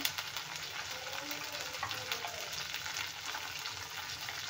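Shredded cabbage and potato sizzle as they fry in oil in a pan for a dry cabbage-potato sabzi, giving a constant, fairly quiet hiss with faint stirring sounds throughout.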